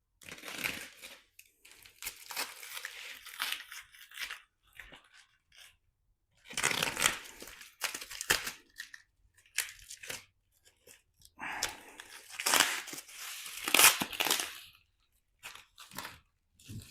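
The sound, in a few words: cutting open cardboard and foam packaging of solar panel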